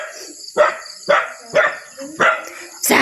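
A dog barks five times in a steady, evenly spaced series, loud and close, over a constant high-pitched insect buzz in the background.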